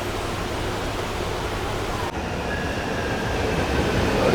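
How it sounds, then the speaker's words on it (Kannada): KTM commuter train in Kuala Lumpur, a steady loud rumble of the moving carriage with a brief dip midway and a faint squeal rising toward the end, no talk. "Train KTM."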